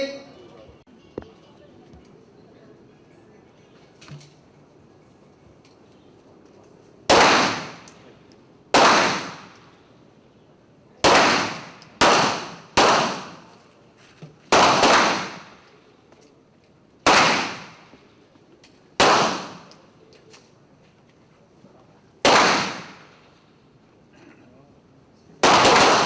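Sharp, loud rifle shots ring out one at a time at an army shooting practice in Jakarta, about ten cracks in irregular sequence after a quiet opening, each with a short echoing tail.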